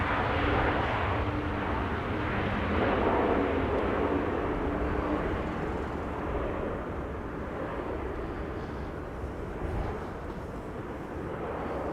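A KLM Boeing 787-9 Dreamliner arriving at Amsterdam Schiphol on a windy day makes a broad, steady jet roar that stays fairly even and a little distant, with gusts buffeting the microphone.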